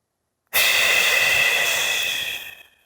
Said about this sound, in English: So breathe in from the belly. And then blow out your candles.